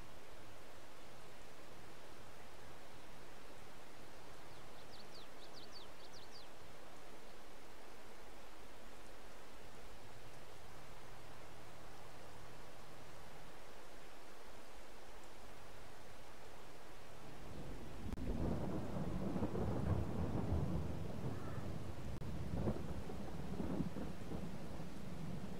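Rain and thunder in the Farming Simulator 22 video game: a low, steady rain hiss, then a loud, close rumble of thunder rolls in and grows during the last third.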